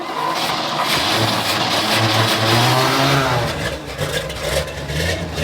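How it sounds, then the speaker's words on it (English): A 6x6 off-road rollback truck's engine cranks and catches, then runs with a loud, steady roar and uneven revving throughout, close by, with no talk over it. "I think we're ready to fire this thing up. It's gonna take some cranking because that whole thing has to prime, but it should start."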